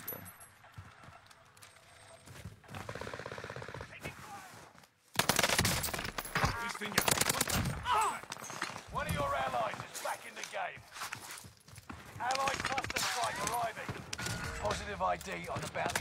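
Bursts of heavy automatic gunfire rattle through a video game firefight, dense rapid volleys that come and go over several seconds, with a voice talking over the action.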